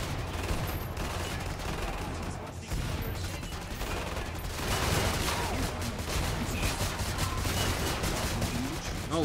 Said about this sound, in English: he's got a minigun.